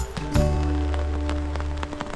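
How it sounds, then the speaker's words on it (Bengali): Rain falling at a cottage in Sajek Valley, a steady close wash of drops with a low hum running underneath through most of it. "বাইরে বেরিয়ে দেখি বৃষ্টি শুরু হয়ে গেছে।"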